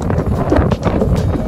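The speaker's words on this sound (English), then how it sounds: "Why is this so windy?" Strong wind beside Boston harbor buffets the microphone with a loud, steady rumbling roar that swells and dips over a short stretch, with no voices.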